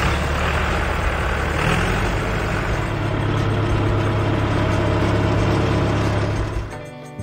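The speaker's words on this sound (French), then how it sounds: "Il arrive qu'il nous quitte pendant la journée pour monter sur les 70 chevaux du tracteur" A 70-horsepower farm tractor engine runs steadily at close range, a loud continuous low rumble with a constant hum, cutting off near the end.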